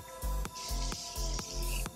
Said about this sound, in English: I'm gonna spray some more of the Morphe Continuous Mist.